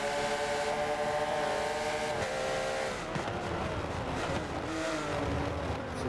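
Porsche GT3 race cars lapping Silverstone in a racing video game, several engines droning loudly and continuously, with pitch-shifting tones as cars pass and jostle for position.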